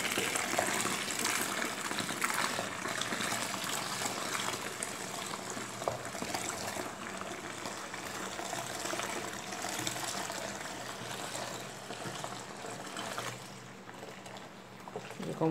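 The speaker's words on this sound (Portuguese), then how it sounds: "Aqui ele tá colocando 7 litros de água morna." About seven liters of warm water pour steadily into a container while making homemade detergent with alcohol, a loud continuous gushing and splashing that carries on almost throughout, easing slightly near the end.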